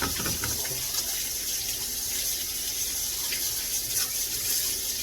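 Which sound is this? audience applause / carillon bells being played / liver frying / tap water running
tap water running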